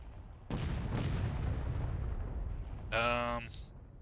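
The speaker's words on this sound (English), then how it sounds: "Artie shots coming in to where they were" Artillery rounds from a Civil War era battle in War of Rights land with two deep, booming blasts about half a second apart, followed by a rumbling tail, while someone speaks briefly afterward.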